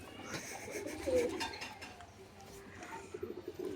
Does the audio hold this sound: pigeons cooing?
yes